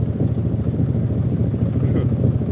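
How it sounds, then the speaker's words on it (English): A 1972 Highboy truck engine idles slightly fast, a loud, steady low-pitched rumble with a quick even pulse, heard close and continuous. "thing sounds nice. It's idling just a little high."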